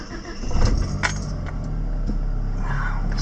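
A Mitsubishi Galant VR4 engine cranks and catches, settling into a steady idle, with keys jangling near the start of the start-up.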